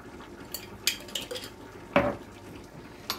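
A mortar is picked up and handled in a home kitchen while sauce is being made for chicken, producing a few sharp clinks and knocks scattered over a quiet background.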